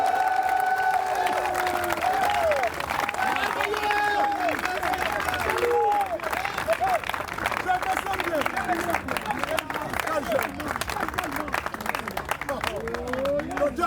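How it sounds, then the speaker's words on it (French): A crowd at a Christian religious gathering claps and cheers in acclaim of Jesus Christ, a dense, continuous wash of applause and voices that stays loud and steady throughout, with shouts and babble mixed in. "On acclame le Seigneur Jésus-Christ."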